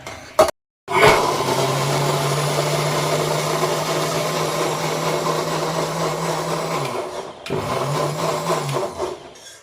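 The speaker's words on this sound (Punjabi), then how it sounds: "ਉਸ ਤੋਂ ਬਾਅਦ ਇਹਨੂੰ ਅਸੀਂ ਕਰਨਾ ਗ੍ਰੈਂਡ ਮਿਕਸੀ 'ਚ" A mixer grinder whirs loudly and steadily for several seconds grinding soaked overripe bananas, stops briefly, then starts up again for a shorter burst.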